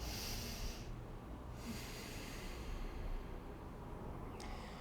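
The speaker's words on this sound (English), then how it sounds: "So you just take an inhale and exhale." Steady, breathy rushing of kundalini-style breathing, with air drawn in and pushed out through the nose. The sound is a continuous hiss broken by a couple of short pauses, close up and fairly quiet, with no talking.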